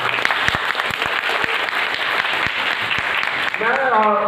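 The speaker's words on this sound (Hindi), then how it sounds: "विद्यार्थी परिषद के युवाओं के लिए, कार्यकर्ताओं के लिए, दोस्तों के लिए जोरदार तालियां होनी चाहिए" Loud audience applause at a student organisation gathering, dense clapping filling nearly four seconds before a voice starts speaking at the end.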